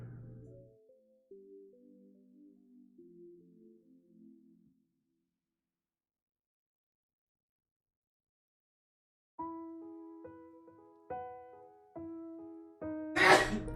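A single sharp sneeze bursts out at the end, loud and close, after stretches of quiet musical tones.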